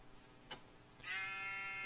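In Minecraft, a sheep lets out one wavering bleat in the latter half, preceded by a short soft tap, against quiet game background.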